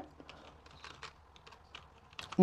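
Light, rapid clicks of a computer keyboard as code is typed, with an irregular rhythm of keystrokes heard up close and fairly quiet, plus a louder thump at the end.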